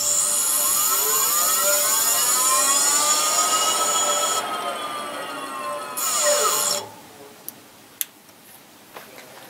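An electric bike motor driven by an inverter, with its chains removed, gives a loud, steady high whine with sweeping tones. The pitch bends and drops off after several seconds, leaving a quieter hum broken by a few sharp ticks.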